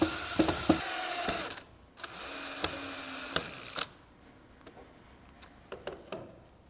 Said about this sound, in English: all we have to do is put in the 5 Phillips head screws that we took out to remove the vac motor and just tighten them down